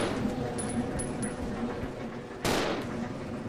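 A single sharp gunshot goes off in the Resident Evil 0 HD Remaster on PlayStation 4, a sudden burst that rings out over low, rumbling game ambience.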